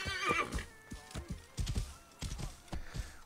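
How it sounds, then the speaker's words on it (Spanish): A horse in the Assassin's Creed Origins video game whinnies loudly at the start, followed by a series of clip-clopping hoofbeats in an uneven rhythm. "Vamos, nuestro caballo."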